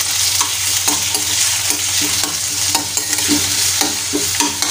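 Onion, tomato, garlic, ginger, coriander and a green chilli fry in a pan for prawn masala, a steady loud sizzle broken by regular scraping strokes as a spoon stirs, close by, with no talking.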